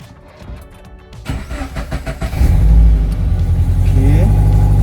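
A Toyota GT86 engine cranks and fires up close by, settling into a loud, steady idle with some revving, preceded by quieter clicks and handling noises.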